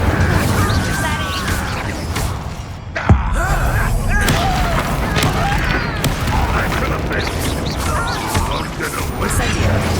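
Spell-casting combat in the PS5 game Hogwarts Legacy, an Incendio fire spell among dense, continuous battle effects with a sharp burst around three seconds, loud throughout.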